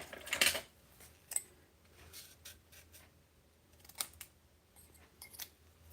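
Scissors trim craft kit material in a quiet room, making several short, crisp snips and rustles separated by pauses, close and faint.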